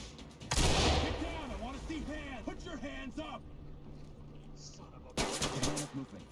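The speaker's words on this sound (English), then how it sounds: "Anyway, flashbang." A flashbang grenade bursts in the tactical shooter SWAT 4 with a sharp, loud blast that washes out the sound. Talk and a brief sweeping electronic tone come before it, and a second loud burst follows near the end.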